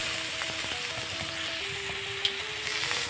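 Garlic frying in a pan for a green bean and mustard flower mash, a steady close sizzle with a faint tonal hum running underneath, unbroken for the whole stretch.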